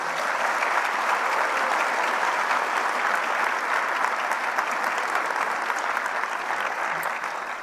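A large audience at a medical school graduation at MU breaks into sustained, dense applause welcoming a student speaker to the podium, loud and even throughout before tapering slightly at the end.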